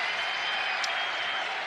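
Crowd at a Blue Jays baseball playoff game in the stadium, a steady roaring wash of cheering and applause, distant and sustained, with a brief sharper shout in the middle.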